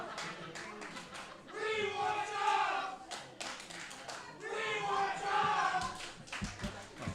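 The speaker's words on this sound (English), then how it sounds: "Sounds like the crowd calling for chops." Wrestling arena crowd during a no-disqualification match, rhythmic clapping and chanting in loud waves, two big swells of massed voices with claps between, close and filling the space.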